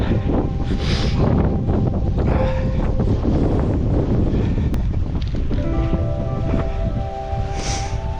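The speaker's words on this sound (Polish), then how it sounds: "Strasznie wieje." Strong wind buffets a microphone while cycling outdoors in nature, a continuous loud roaring rush with gusty swells throughout and no talking.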